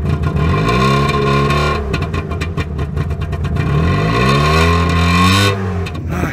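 A late-production Trabant 601 with a duroplast body and a two-stroke engine revs loudly and close up, its buzzy pitch sweeping up and down in two strong rising bursts.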